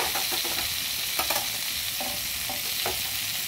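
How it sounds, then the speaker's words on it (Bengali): Pumpkin, potato and pointed gourd fry in a pan with a steady sizzle, broken by soft scraping stirs of a spatula at irregular moments, close and alone with no voices. "ভালোভাবে কিছুক্ষণ নেড়ে তারপরে কুমড়োগুলো দিয়ে দেব।"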